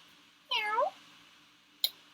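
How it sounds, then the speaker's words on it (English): A cat gives a single rising-then-falling meow, close and clear, followed moments later by a brief sharp click in an otherwise quiet room. "You might pass a cat."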